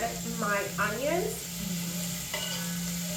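Onions tossed into a pan of frying carrots sizzle steadily with a constant hiss, while a voice speaks over the cooking.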